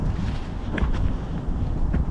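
Wind gusts buffet the microphone on a mountain ridge of Suraksan in autumn, a steady loud low rumble with brief swells and faint rustling.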